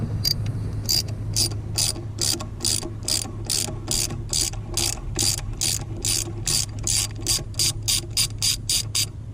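Close, loud ratchet clicks come in fast rhythmic bursts of about two dozen strokes as a ground bolt is removed on a Dodge Ram 2500 5.9L 24-valve Cummins engine, with a low hum underneath and no talking.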